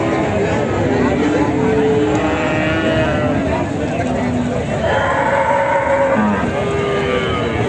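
A dairy cow at a busy cattle market moos loudly and at length, several drawn-out lows close by, while people talk and a crowd murmurs behind it.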